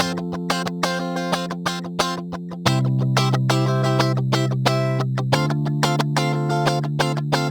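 Sampled Zouk strum guitar chords play in a steady rhythmic pattern, shifting to a new chord about every two and a half seconds, loud and sustained with no voice.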